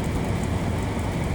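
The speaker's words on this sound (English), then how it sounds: "I'd say it's like sleet coming down right now because it's hitting off the car like little hail." Sleet pattering against a car like little hail during a Nashville snowstorm, a dense, steady, loud hiss of icy pellets with no voices.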